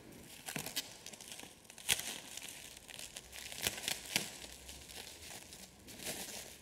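A plastic bag crinkles and rustles in short irregular bursts as something is pulled out of it, fairly quiet and close in an otherwise still room during a church service, with no speech over it.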